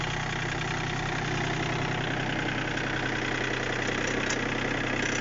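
A Japanese mini tractor's small engine with hydrostatic transmission runs steadily as it moves off, at a constant pitch, a dense mechanical chugging with a slight knock, loud and close throughout.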